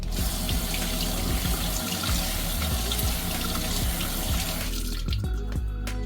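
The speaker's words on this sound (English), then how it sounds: "Now it's time to rinse the blueberries." Tap water pours steadily into a sink as blueberries are rinsed, a continuous loud splashing rush that thins out and turns to drips in the last second.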